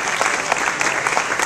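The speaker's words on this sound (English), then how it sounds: "Give another round of applause." An audience breaks into applause at a live hosted event, a dense, even patter of many hands clapping close by that keeps going without a break.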